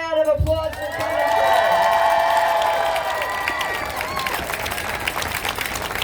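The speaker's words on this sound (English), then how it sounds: "Give her a round of applause for coming" Crowd at a pro-choice rally applauds, with cheers and whoops, while a loud tonal note rings over the clapping early on; the applause stays moderately loud and steady throughout.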